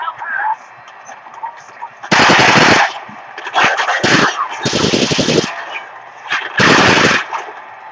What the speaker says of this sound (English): where there's a little bit of gunfight, firefight